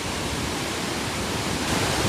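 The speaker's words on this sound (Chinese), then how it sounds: "来这里看看这个瀑布啊，你看看人家这个一往无前的气势啊" Hukou Waterfall on the Yellow River in Jixian, Shanxi, the world's largest yellow waterfall, heard up close as a loud, steady, unbroken roar of churning water.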